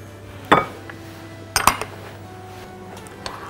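A utensil clinks against a bowl while pistachios are stirred into cupcake frosting for pomegranate molasses cupcakes; a few sharp, close clinks and scrapes stand out against near-silence, separated by pauses.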